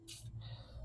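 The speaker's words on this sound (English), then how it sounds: "I'll spray WD-40 here before we start the job." WD-40 sprays onto an Allen head screw on a Land Rover in one short, close, hissing burst, followed by a fainter lingering hiss against a low background hum.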